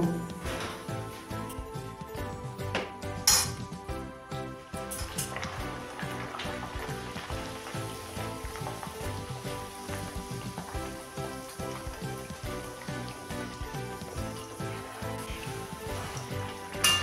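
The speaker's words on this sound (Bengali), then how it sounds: "এইভাবে আমি এখন সব নানপুরিগুলি ভেজে নেব।" Nan puris deep-frying in hot oil, a dense, steady sizzle and crackle that carries on without a break, close and moderately loud, with no talking over it.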